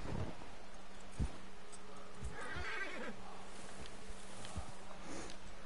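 Horse in Red Dead Redemption 2 neighs in a short whinny amid game ambience, with scattered thumps and hoof clatter and a faint buzzing insect drone throughout.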